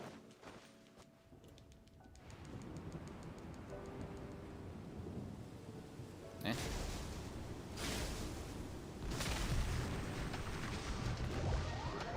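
A thunderstorm in the video game Genshin Impact: steady rain-like hiss builds under several loud, broad thunder cracks and rumbles in the second half.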